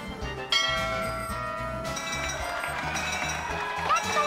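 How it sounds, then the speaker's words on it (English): Bell chimes ringing out in the Nintendo 64 game Sesame Street: Elmo's Number Journey, clear ringing tones layered over the game's steady rhythmic music, with a person talking over it. "I'm gonna try the bell."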